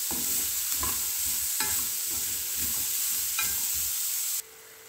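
Papaya pieces being stirred into a hot frying pan with crushed chili, with sizzling oil under repeated scraping strokes of a spoon at a steady rhythm, close and clear, then cutting off abruptly near the end.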